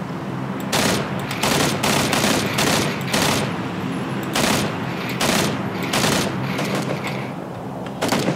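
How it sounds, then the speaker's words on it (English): Bursts of automatic gunfire ring out in PlayerUnknown's Battlegrounds, loud, rapid strings of shots separated by short pauses, repeating throughout with occasional heavier booms. "I heard gunfire."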